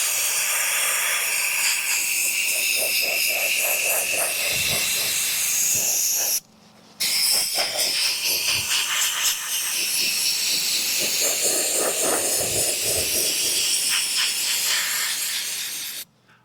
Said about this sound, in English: now that we're done blasting with the baking soda